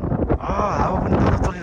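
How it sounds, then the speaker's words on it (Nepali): Wind gusting across the summit of Mera Peak in Nepal, a steady broad rush that buffets the microphone throughout, loud and close. "हावा पनि तल चलिरहेछ।"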